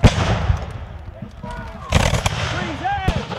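Musket volleys crack out at a Revolutionary War re-enactment of the 1778 Battle of Monmouth, sharp ragged bursts of gunfire mixed with shouted commands and open outdoor echo.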